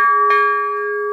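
A solid carbon dioxide cylinder bell without cuts is struck, giving a bright, pure metallic ring with a strong steady pitch and a second light strike shortly after, sustaining clearly.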